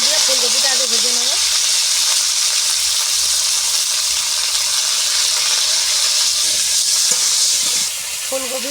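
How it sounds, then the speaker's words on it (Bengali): Cauliflower pieces fry in hot oil, a loud, dense, continuous sizzling hiss held close throughout, with a brief voice talking at the start and again at the end. "তা ফুলকপিগুলো আগে ভেজে নেব।"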